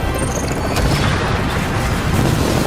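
Dense gunfire and blasts from a firefight in The Division's Dark Zone, loud and continuous with overlapping shots and booms throughout.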